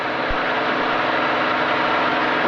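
A small airplane's engine roars steadily at full power during a takeoff roll down the runway, loud and constant throughout, with no talk.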